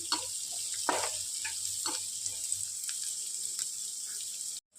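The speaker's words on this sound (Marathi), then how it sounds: "याला तेलामध्ये छान फ्राय होऊ दे।" Peas masala frying in oil gives a steady, soft hiss with scattered light crackles and pops throughout, continuous and fairly close before cutting off briefly near the end.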